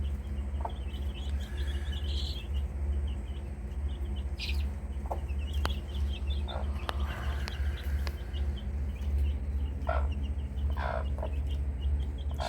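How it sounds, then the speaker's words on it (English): A mother hen clucks steadily to her chicks inside a chick-raising pen, with soft repeated clucks and faint peeping scattered over a constant low background hum. "Look at all these chicks."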